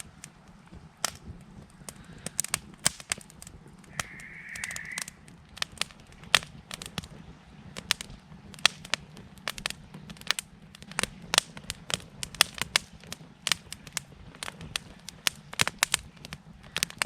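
A wood fire crackles in a fire pit at an outdoor wild camping spot. Sharp pops and snaps come irregularly over a low steady rumble of flames, and one brief higher hiss stands out partway through.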